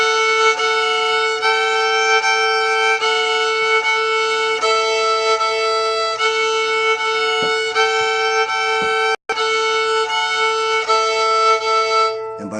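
A guitar chord rings with the open first and second strings, strummed in a steady repeated rhythm, bright sustained tones close up and alone with no talking.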